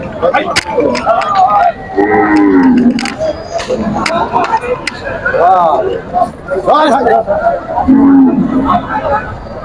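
Cattle at a busy rural livestock market in Dugdugi, Bangladesh, give two deep drawn-out moos, one early and one near the end, over loud crowd babble and nearby talking.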